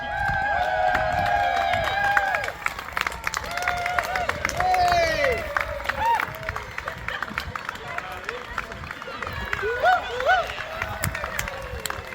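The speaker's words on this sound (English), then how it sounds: "A good round of applause from everyone." Steady clapping from a small crowd, with people talking and calling out over it, close and lively throughout.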